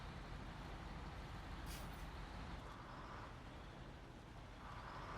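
Heavy truck hauling a big load in the Snowrunner video game, a loud steady engine drone with a brief hiss partway through, no talk.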